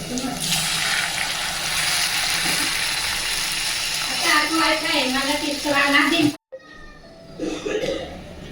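Water is poured into a cooking pan while making upma, a loud, continuous rushing splash up close that fades partway through as a voice speaks over it, then quieter handling noises follow.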